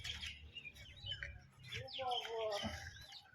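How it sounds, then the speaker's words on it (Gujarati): Sparrows chirp outdoors near the Bangladesh border at Bangaon around sunset, quick bright tweets repeating close by over a low background rumble. "ચકલા વકલા બોલે, ચોખ્ખો અવાજ આવે છે"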